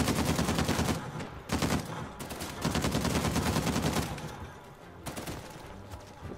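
A handheld turret firing in a video game, heard as loud, rapid automatic bursts of gunfire in several sustained stretches separated by brief lulls, close and dominant.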